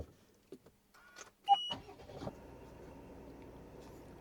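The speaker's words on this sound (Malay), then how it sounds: "Jadi sekarang kita hidupkan enjin dulu." A parked car's engine being started: quiet clicks and a short chime first, then a brief cranking burst that settles into a soft, steady idle hum.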